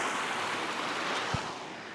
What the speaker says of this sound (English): nice flowing water.